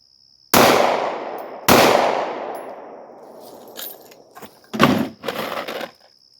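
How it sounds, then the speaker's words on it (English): A SIG 320 handgun fires two loud, sharp shots at a 50-yard range, each ringing off in a long decay, followed by a few shorter, fainter bangs and clatter. "I'll put a couple of shots here again at 50 yards."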